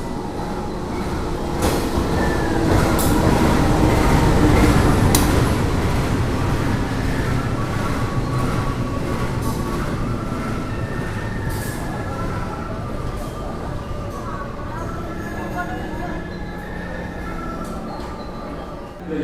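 The Serayu passenger train rolls into Banjar station with a heavy, rumbling roar of cars and wheels, loudest early on, then easing into quieter clatter and squeals as it slows, with station bustle behind.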